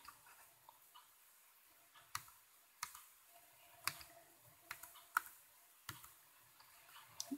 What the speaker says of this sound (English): I go ahead and type in the number.